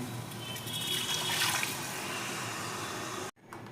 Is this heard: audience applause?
no